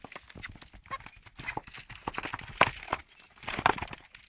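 A show-jumping horse's hooves clip-clop on the ground in an uneven series of soft thuds, with a couple of sharper knocks, moderately near under faint background noise; no clear talk.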